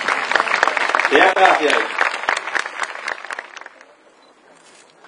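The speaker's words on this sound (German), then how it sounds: "Einen Applaus, bitteschön!" An audience at a horse dressage show claps for the horse Erik, a dense burst of applause that swells early and then thins and fades toward the end, with a voice speaking briefly over it.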